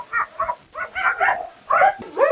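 Dog barks and grunting, pig-like vocalizations in a dog rescue shelter, a series of short, fairly loud calls in irregular bursts with brief pauses between them.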